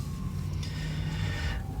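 Sirens wail in the distance, a rising and falling tone that sweeps upward midway through, heard over a low traffic-like rumble for a couple of seconds.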